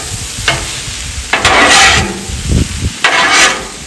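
Sausage, potatoes and Fritos stirred together on a Blackstone griddle for a breakfast hash, with scraping spatula strokes in bursts over a steady sizzle, close and fairly loud.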